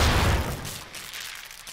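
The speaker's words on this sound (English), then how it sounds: "That was an explosion." One loud explosion booms at the start and then decays into a rumbling, hissing tail that fades over about a second and a half.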